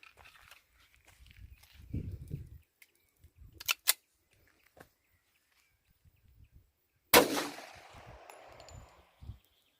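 An 11mm air gun fires a lead pellet, producing a single sharp, loud crack followed by a short fading rattle, after scattered quiet handling clicks and rustles.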